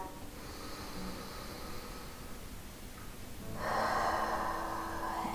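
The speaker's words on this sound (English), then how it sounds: "One more deep breath." Deep breathing during a mid-back and glute strengthening workout, slow audible inhales and exhales with a louder, longer breath toward the end, close and quiet with no talk.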